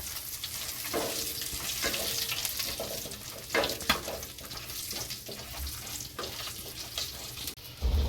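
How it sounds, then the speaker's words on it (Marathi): Whole spices, green cardamom, a cinnamon piece and star anise, sizzling in hot oil in a pan, with a low steady crackle and intermittent stirring clicks and scrapes, quiet and close. "तर आपला हे जे खडे मसाले आहेत व्यवस्थित फ्राय झालेले आहेत"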